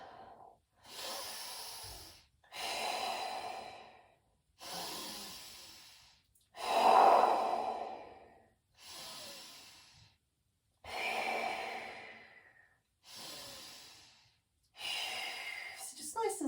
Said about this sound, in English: We're just breathing in as we extend out, breathe out, just bring it back.